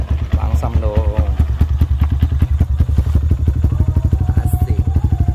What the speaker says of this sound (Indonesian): Ini sejauh ini knalpot paling gue suka ini guys. Suaranya adem, enak, digeber, ngeblar ya guys ya.